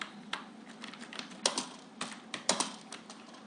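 Someone types C code for a factorial program on a computer keyboard. The keystrokes are close and crisp and come in uneven bursts with short pauses, with a few louder clacks, and no one speaks.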